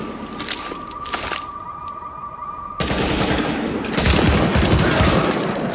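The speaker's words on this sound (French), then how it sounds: "Même si je te vois pas, je te tire" Sustained automatic gunfire in the Tom Clancy's The Division video game, a loud rapid rattle of shots that continues and grows denser partway through, with no talk over it.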